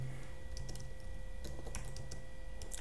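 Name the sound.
typing on a computer keyboard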